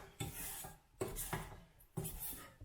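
Butter is stirred in a pan with three rhythmic scraping strokes of a utensil against the metal, close and quiet, each sweep starting with a soft knock.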